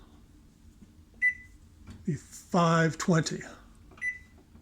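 Oven control panel beeps sound as bake settings are keyed in, a few short high electronic tones scattered close by, with a person speaking between them.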